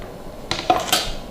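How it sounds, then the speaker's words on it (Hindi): A knife clinks and taps against a plate or board while lemons are cut, three distinct metallic knocks spaced about a fifth of a second apart, close and fairly quiet. "जी देखें, लेमन मैंने काट लिए हैं।"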